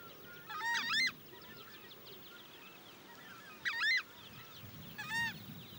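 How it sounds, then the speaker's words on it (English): A turkey-sized bird in Emas, Brazil, gives three loud honking calls, each a short harsh stacked burst, spaced apart over a quiet open-air background. "The voice of this strange bird, the size of a turkey, can be clearly heard 3 kilometers away."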